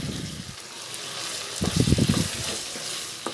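Chicken white karahi sizzles and fries in ghee over onions, with a steady hiss punctuated by a burst of stirring scrapes and bubbling as the pan is mixed.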